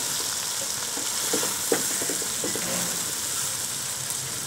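Bitter gourd and mutton stirred and frying in a pan for karela gosht, a steady close sizzle with soft scraping stir strokes and no talking.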